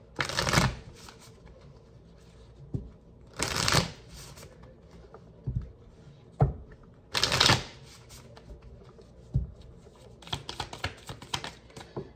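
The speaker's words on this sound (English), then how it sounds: "Let's shuffle. Let's shuffle." Tarot cards are shuffled close up in several quick riffling bursts separated by short pauses, ending with lighter, scattered taps and flicks.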